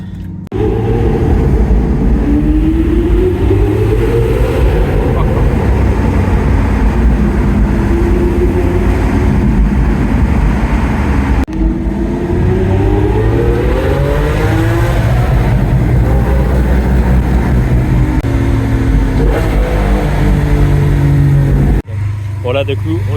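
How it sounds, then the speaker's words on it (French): A Lamborghini Aventador drives on the road with a loud, steady engine roar that rises and falls as it accelerates and shifts. A voice talks over the engine throughout. "Attendez, là je vais quand même conduire la Aventador là."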